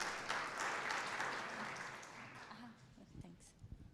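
Audience applause welcoming a university startup team at an international startup competition, a dense wash of clapping that is strong at first and then thins and fades, with some talk and a few thumps near the end.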